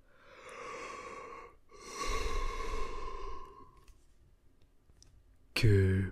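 A voice imitates a goat's long, loud yawn in two drawn-out breathy stretches, followed by quiet and then a sudden burst at the end.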